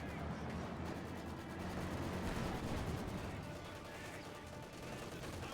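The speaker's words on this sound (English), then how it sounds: "the best anti-infantry machine gun in the game, the MG42" Sustained MG42 machine gun fire from the Company of Heroes 2 video game during a tournament match, a dense continuous rattle of gunfire with battle noise, steady and loud throughout.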